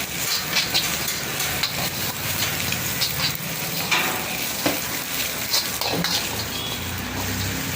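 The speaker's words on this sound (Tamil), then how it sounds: "சிக்கன் வெங்காயம் போடுங்க" Chicken and onions stir-fry in a pan for chicken noodles, with a continuous close, loud sizzle and frequent scraping clanks of a spatula tossing the food throughout.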